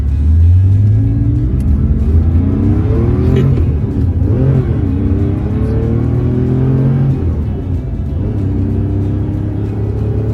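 A 1974 Porsche 911 Carrera engine revs loud and close from inside the car, rising and falling through the gears with a throaty rumble and whine across the whole stretch.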